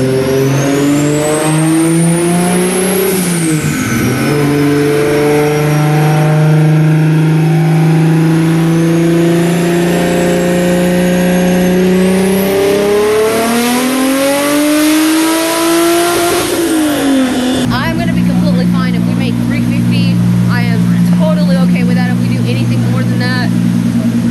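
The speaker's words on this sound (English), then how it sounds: "let's listen to a run and see what our second run's going to give us" A Nissan S13 with an RB25DET engine roars loudly at high revs on a dynamometer, sweeping up and down in pitch before settling into a steady heavy drone, close and continuous.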